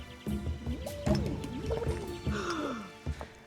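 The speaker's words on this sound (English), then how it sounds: "sometimes you'll hear townsfolk making bubbling underwater drowning noises" Townsfolk drowning in the VR game Townsmen VR: gurgling, bubbling underwater noises with liquid drips and warbling tones, moderately close, running continuously for a few seconds.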